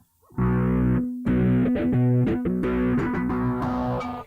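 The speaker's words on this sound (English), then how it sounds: "let me kick in the distortion pedal" Heavily distorted electric guitar through a distortion pedal plays chunky rhythmic chords of a song in bursts, loud and close, with sustained crunchy tones and brief gaps between strums.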